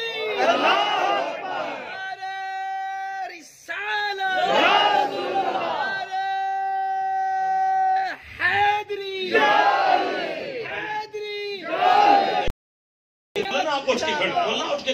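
A large crowd at a religious gathering chants a takbir slogan in call and response: a single leader's cry is answered by loud massed shouts in repeated bursts, with sustained sung tones between them and a short silent gap near the end.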